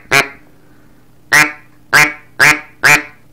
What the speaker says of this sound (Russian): хороший манок, кто умеет крякать